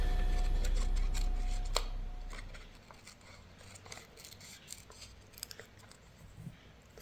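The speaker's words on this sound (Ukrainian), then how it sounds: "Одна смужечка, наступна. Пам'ятаємо, що вирізаємо ми обережно." Scissors snipping paper into strips during a children's craft lesson, a series of soft crisp cuts and paper rustles, close and quiet after a low hum fades out.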